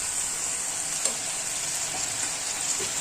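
Tomatoes fry in a hot pan for a brinjal and fenugreek curry, giving off a steady, loud, close sizzle. The hiss stays even throughout, with a few faint pops and no voices.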